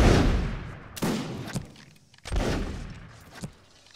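A regiment's musket volley rings out in the Mount and Musket video game: a loud crackling burst of shots rolling into echoing booms, then a second ragged volley with distant reports fading away.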